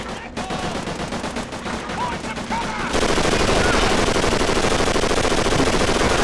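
German 7.92mm rifles firing in the PS2 game Call of Duty: Finest Hour/Final Fronts, loud rapid shots that build into a dense, continuous burst of gunfire, with faint voices under the opening shots.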